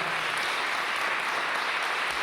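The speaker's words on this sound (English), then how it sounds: "let's give a nice round of applause" Steady, dense applause from an audience at a civic recognition ceremony for national service honorees, continuous and even throughout without any speech over it.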